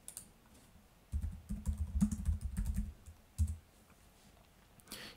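Someone typing a command on a computer keyboard, a short run of soft, rapid key taps for about two seconds, then a single brief burst and a final click, quiet and close.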